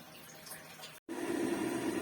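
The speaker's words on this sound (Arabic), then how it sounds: "الصوت ده صوت الكاتل بسخن في ميه عشان الفول اللي هنعمله" An electric kettle heating water for cooking fava beans gives a steady, faint rushing hiss that cuts out briefly midway and then returns a little stronger and fuller.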